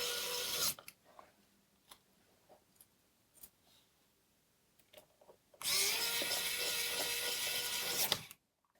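Screws being driven into an aluminium ICY BOX USB-C 2.5-inch SSD enclosure: a short close whirr, scattered faint ticks and clicks, then a longer sustained buzzing run of a few seconds.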